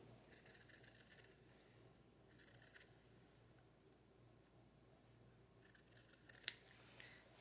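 Scissors cutting fabric for a junk journal cover make soft, quiet snipping in three short bursts separated by near-silent pauses.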